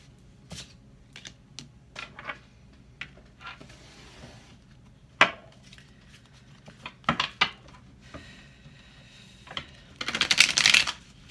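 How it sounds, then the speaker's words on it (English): Tarot cards being shuffled and tapped in scattered bursts, crisp close clicks and riffles separated by pauses, ending in a longer rapid riffle. "There, I shuffled these cards so much"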